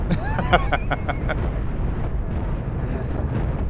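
Missile explosions tearing apart an enemy ship in the space game Cosmoteer, a quick burst of several sharp booms and pops over a rumbling bed, loud at first and then fading into a low roar.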